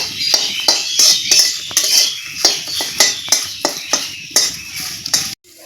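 Onion peels frying in a wok are stirred with a spatula: close, regular metallic scrapes and clinks about twice a second, with no voices, ending abruptly.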